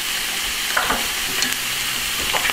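Minced garlic fries in a pan with a steady, loud, close sizzle and a few faint stirring scrapes, without any talking.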